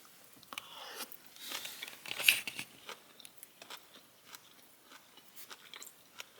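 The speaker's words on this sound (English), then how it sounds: "Sorry for all the munching." Close, crunchy chewing of cold broccoli, chicken and sauerkraut, with repeated bites and moist mouth clicks in an irregular rhythm, fairly quiet and heard alone without talk.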